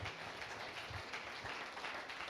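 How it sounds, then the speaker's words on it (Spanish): A church congregation applauds during a sermon, a faint, dense wash of steady clapping lasting a couple of seconds with no talk over it. "Denle ese aplauso fuerte al Señor"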